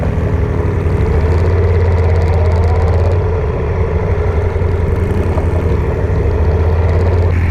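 A BMW R nineT or Moto Guzzi Griso 1200 motorcycle runs on a country road, a loud steady low engine drone with a throbbing rumble, close and continuous, without speech.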